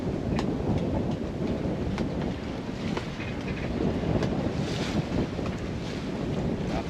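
Steady wind rising and roaring, buffeting the microphone aboard a sailboat off northern Menorca, with a continuous wash of water and boat noise underneath; no voices.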